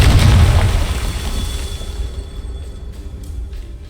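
A Confringo spell goes off in Hogwarts Legacy as a loud fiery boom at the start, then a rumbling burst that slowly fades over several seconds, with no talk over it.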